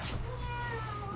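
A cat meowing softly in a long drawn-out tone, heard behind steady background noise and talking.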